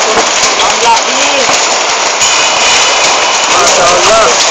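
Hailstones pound a surface in a dense, steady roar during a heavy hailstorm, loud and close, with faint voices.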